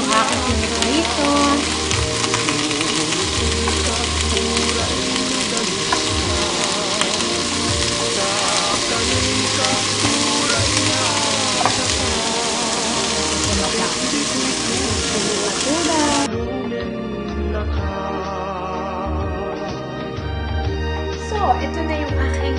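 Food frying loudly in a pan for Filipino sesban flower salad, a dense steady sizzle that runs without a break and drops to a softer, thinner crackle near the end.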